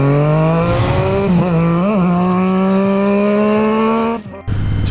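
Triumph Street Triple or Daytona motorcycle riding downhill, its engine a steady, close droning tone with a slight wavering in pitch, before the sound drops away abruptly near the end.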